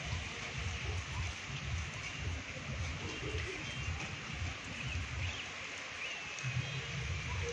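Steady rain falls in Dharamshala in the hills, a constant soft patter and hiss on surfaces under a low rumbling background, faint and continuous throughout.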